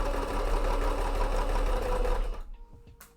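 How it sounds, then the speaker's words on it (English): A loud home sewing machine runs steadily at close range with a dense mechanical whir, then stops abruptly about three-quarters of the way through, leaving near silence and a few faint knocks. "because I imagine it's a bit loud, because my sewing machine is just loud."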